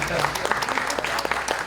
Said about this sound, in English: give Tiffany a round of applause